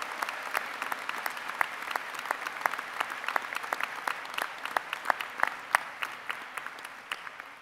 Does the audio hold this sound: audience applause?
yes